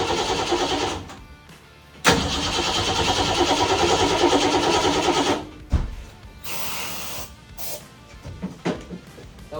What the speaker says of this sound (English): let me show you those clips of the car cranking over